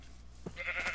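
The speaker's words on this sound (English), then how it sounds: "Another sheep." A single short sheep bleat in Minecraft, near and fairly clear, lasting under a second with no talk.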